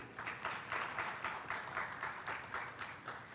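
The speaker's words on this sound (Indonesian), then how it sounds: "Kita beri tepuk tangan sekali lagi." Audience applause at a panel discussion during a digital competitiveness index launch event, a steady wash of many hands clapping with a gently pulsing rhythm, moderately loud and heard alone without talk.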